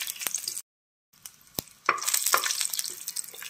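Fenugreek seeds, cumin, coriander, garlic and ginger sizzle in hot oil in a pan while a spoon stirs them, with scraping strokes over steady frying crackle and one brief silent gap.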